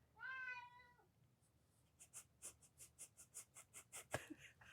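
A cat wanting attention gives one clear, drawn-out meow up close, followed by a run of rhythmic soft scratching or panting sounds, with no talking.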